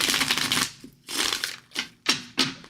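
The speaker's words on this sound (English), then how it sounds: "Let's shuffle real good, shall we?" A deck of tarot cards is riffled and shuffled close by in several quick bursts, each a crisp rustling flutter separated by short gaps.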